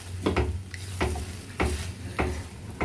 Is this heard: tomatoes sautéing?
yes